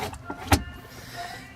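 A storage compartment lid in the cabin of a 2009 BMW X5 xDrive30i snaps shut with a single sharp, close click amid quiet interior ambience.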